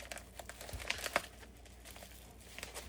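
Cutting and handling packaging while unboxing King & Country toy soldiers: a few quick crinkling and slicing scratches and light taps, close and fairly quiet, with short pauses between them.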